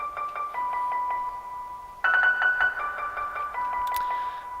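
A synth melody programmed in FL Studio with added stutter edits, steady sustained tones chopped into rapid repeated pulses, jumping up in pitch midway and then settling back, with no voices.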